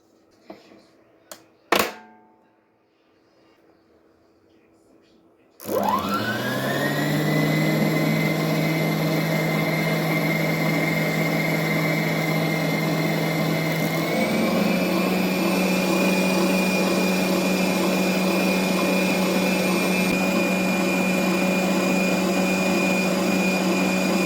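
Electric hand mixer whipping cream in a bowl, switching on after a few soft clatters and then running steadily and loudly with a constant motor whine that steps up in pitch partway through.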